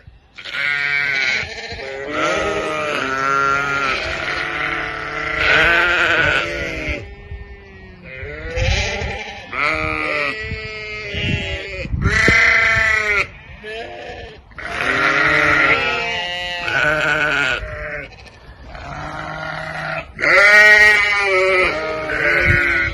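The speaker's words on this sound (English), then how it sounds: "Bloody noisy sheep." Loud, repeated sheep bleats close by at an allotment in Devon, several animals calling in overlapping bursts with brief pauses between.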